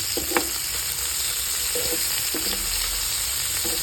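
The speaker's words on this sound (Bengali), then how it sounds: "আমি ভাজাটাই দেখাচ্ছি" Sea fish (poya) frying in hot oil gives a steady, close sizzle throughout, with a few soft stirring knocks and scrapes and no talking.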